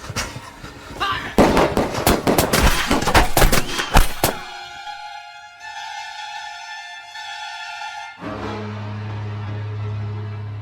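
A radio-drama firing squad lets off a dense, rapid volley of sharp gunshots lasting a few seconds, loud and close, which then gives way to sustained ringing tones and a low droning hum.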